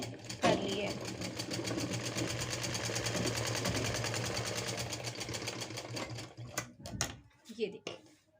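A sewing machine runs top-stitching along the back neckline of a designer blouse, a fast steady mechanical rattle for about six seconds, then it stops and short clicks and handling knocks follow.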